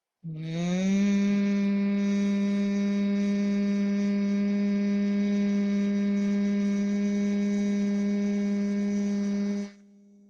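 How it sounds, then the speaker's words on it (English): A person does bhramari breathing, a steady low humming exhale made in the back of the throat, held evenly for about nine seconds before stopping, close and alone. "create the humming sound in the back of the throat and in your exhale"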